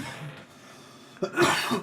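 A single short cough close to the mic, breathy and raspy, following a quiet stretch of low background noise.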